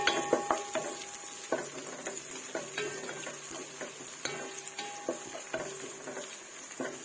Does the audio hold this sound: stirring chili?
yes